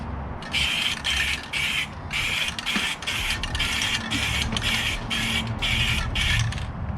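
A spray can coats a Vossen VFF-1 car wheel in circular passes, giving about ten short, even hissing bursts with brief pauses between them, close and fairly loud.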